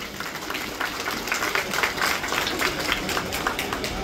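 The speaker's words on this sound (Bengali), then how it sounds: "সবাই একটু জোরে হাততালি দিন" Audience applause at a union conference for contract workers at Netaji Subhas Chandra Bose International Airport, a steady wash of many hands clapping that holds evenly throughout at moderate loudness.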